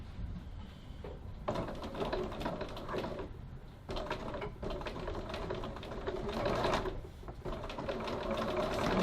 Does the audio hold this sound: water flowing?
no